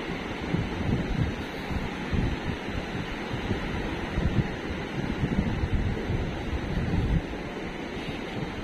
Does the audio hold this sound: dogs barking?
no